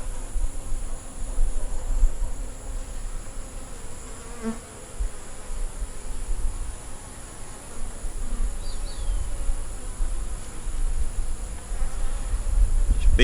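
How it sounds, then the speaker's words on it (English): Honeybees buzz around a hive frame, making a steady, close, continuous droning hum that holds at an even level throughout. "Be gentle with your bees, people, and respect them."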